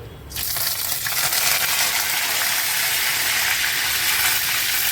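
Curry leaves drop into a hot pan for a Malvan-style surmai curry, bursting into a sudden loud crackling sizzle that holds strong and continuous to the end.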